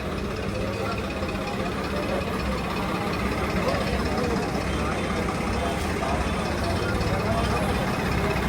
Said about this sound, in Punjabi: ਜ਼ਬਰਦਸਤ ਟਰੈਕਟਰ ਤਿਆਰ ਕੀਤੇ ਵੀਰਾਂ ਨੇ